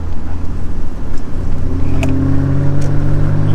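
A Nissan 300ZX twin turbo in sport mode pulls steadily under acceleration, its engine drone rising slowly in pitch from up close over a constant cabin rumble.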